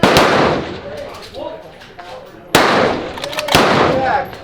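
Precision rifle shots crack sharply at an outdoor shooting match, two loud reports spaced about a second apart near the middle and end, with people talking over the range noise between them.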